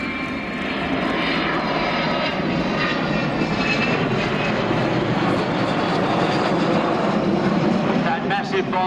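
A fixed-wing aeroplane roars continuously at the Shoreham airshow, a loud sustained engine drone that builds slightly over the clip, with a voice talking faintly beneath it.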